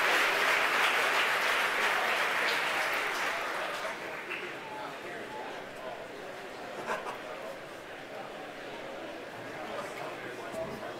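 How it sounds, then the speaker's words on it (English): A crowd at company headquarters cheers and applauds after a SpaceX Falcon 9 rocket launch carrying Starlink satellites, loud at first and then settling into a steadier, softer roar of clapping and chatter, with a voice talking over it. "The crowd here at headquarters cheering."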